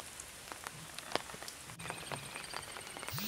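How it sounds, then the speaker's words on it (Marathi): Light drizzle near a small temple at the Lonar crater lake patters in scattered soft drops over a gentle wet hiss, quiet and continuous with no voices. "रिमझिम मस्त छान पाऊस पडतोय"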